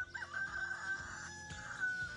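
A rooster crows at moderate distance on a flower farm, its drawn-out call rising over a quiet farmyard background, with no talking.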